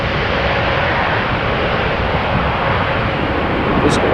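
TUI Boeing 787-8 Dreamliner jet, a Belgian aircraft about eight years old, at Amsterdam Schiphol Airport, its engines producing a loud, steady broadband roar that holds constant without letup.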